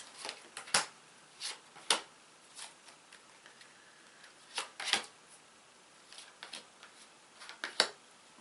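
Playing cards being shuffled in quick riffling bursts, close and fairly quiet, with short pauses between each flurry of crisp flicks.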